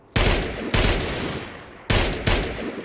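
Gunfire from Fallout 4, likely a .45 Enfield MP-45 machine pistol: four loud sharp shots in two quick pairs, each with a booming decay, close and clear.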